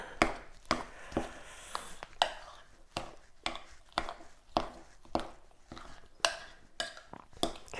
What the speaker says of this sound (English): Don't be afraid to mix it really well.